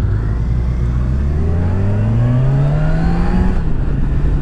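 Kawasaki Ninja 1000 SX sport-touring motorcycle pulling hard on a demo ride route, its engine note rising steadily through the revs in one loud, close acceleration, with a brief dip near the end as it shifts.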